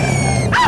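Hunting dog during a rat hunt, a single short, loud bark or yelp over a dense, noisy background.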